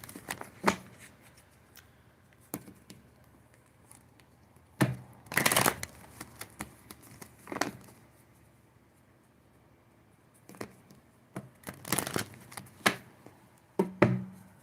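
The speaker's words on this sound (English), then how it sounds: "Let me just do a couple of shuffles here." Tarot cards being shuffled, scattered riffles and soft slaps in short bursts separated by quiet pauses, close and fairly faint.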